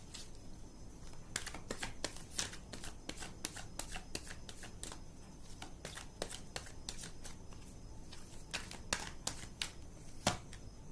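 Tarot cards are shuffled and handled in a quiet room, a soft, close series of quick riffling flicks and slaps in irregular bursts, faint and without talk.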